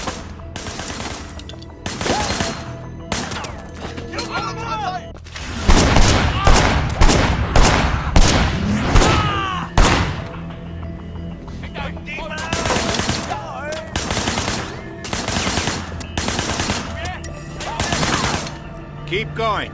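Rapid bursts of gunfire from a car in the Sleeping Dogs video game, with shots fired from a passenger window. Repeated loud volleys and fusillades come in clusters across the clip, with some voice-like sounds mixed in.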